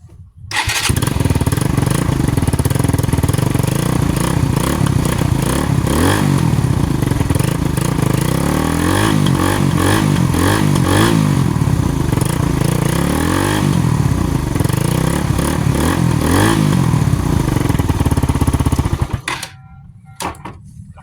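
A Suzuki Raider 150 motorcycle on a test ride after new brake pads were fitted, its engine running loud and close for about twenty seconds with a steady rasping drone and shifting revs, then cutting off.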